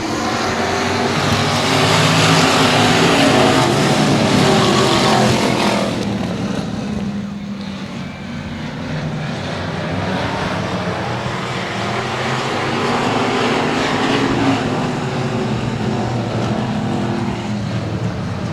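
Race cars at a speedway roaring together as they accelerate at the green flag start, a loud sustained engine drone that swells, dips briefly and builds again, with a voice faintly underneath.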